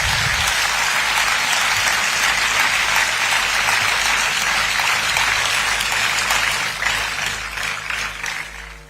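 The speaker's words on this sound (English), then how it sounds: "a big round of applause for the awardees and their parents." Sustained, dense audience applause at a graduation ceremony at AIIMS Mangalagiri honouring awardees and their parents, loud and steady throughout before fading slightly at the end, with no talk over it.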